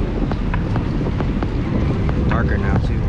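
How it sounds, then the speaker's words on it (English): Strong gusty wind buffeting the microphone outdoors at Fort Monroe on Chesapeake Bay, Virginia, while fishing, a steady roar with faint intermittent sounds over it. "Getting windy."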